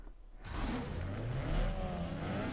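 Several street cars in Need for Speed: Underground 2 roar into life at a race start, engines revving hard and rising in pitch together after a quiet opening moment, loud and close.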